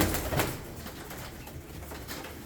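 Pigeons coo softly at a pigeon auction, a few low throaty calls and faint rustles blending into a close, moderate murmur with no talking.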